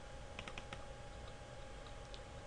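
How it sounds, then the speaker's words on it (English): Typing on a computer keyboard while filling in patient report fields: a short quick burst of several keystrokes, then a few scattered taps, quiet and close over faint room hum. "Type it using the keyboard or use double click."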